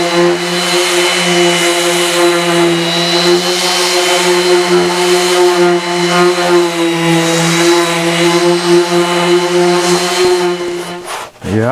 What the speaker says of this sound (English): I just basically want to try out this new sander.